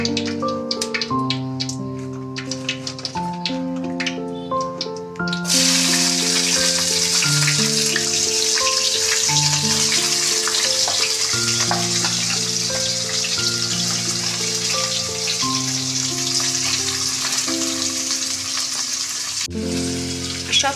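Chopped vegetables frying together in a pan in a home kitchen, a steady loud sizzle that swells once the batch goes in and continues evenly, with occasional stirring, under recurring background music.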